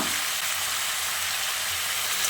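Drumstick pieces and eggplant sizzling with potatoes and tomato in a hot oiled pan, a steady dense frying hiss throughout, close and continuous with no talk.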